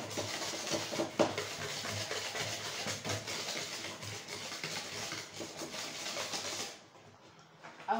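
Cake batter with vanilla essence being mixed in a bowl, a continuous soft stirring and rubbing sound with occasional light utensil knocks, steady and close, ending abruptly into near silence.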